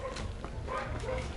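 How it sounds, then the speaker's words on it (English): Dogs in the town of San Juan del Obispo, Guatemala, give short yips and whimpering barks over steady outdoor background noise. "A couple dogs hanging out looking happy."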